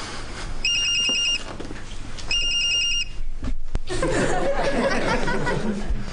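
A telephone rings in two short bell-like bursts over steady room noise, with laughter and voices following after the ringing stops.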